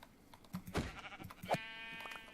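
Sheep bleating in Minecraft, played in a modded 1.12.2 world, a short wavering bleat standing out over a quiet game background.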